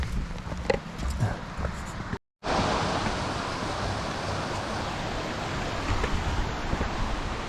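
A waterfall on the Mullerthal Trail in Luxembourg gives a broad, steady rushing roar, close and constant, broken by one brief silent cut partway through.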